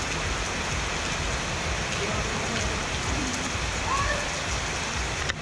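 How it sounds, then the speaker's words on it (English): Heavy rain pouring steadily in the Philippines during a motorcycle trip, a dense, even hiss of drops hitting surfaces with no pauses. "It's raining bad."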